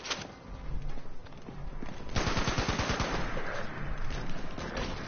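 Gunfire in Fallout 76 rings out in rapid, sustained bursts, like an automatic weapon rattling over a rough, busy in-game background, loud and close for most of the stretch.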